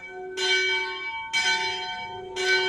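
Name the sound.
church bells ringing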